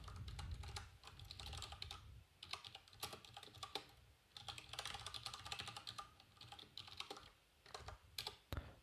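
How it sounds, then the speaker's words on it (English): Steady, busy clacking of a computer keyboard, keys struck in quick irregular runs, close and fairly prominent, with no talking. "hopefully you enjoy the sounds of this keyboard clacking."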